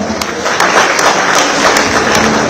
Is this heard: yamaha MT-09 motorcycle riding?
no